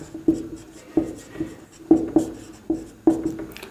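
Chalk on a board during a class 10 trigonometry maths lesson, giving sharp scratchy strokes and taps in quick irregular bursts, close and clear with no talk over them.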